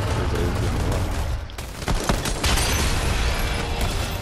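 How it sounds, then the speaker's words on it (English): Gold pistol fire in a video game: dense rapid shots and booms keep up nonstop through a loud, cluttered mix, briefly thinning before resuming, with game noise layered throughout. "all I got is this gold pistol"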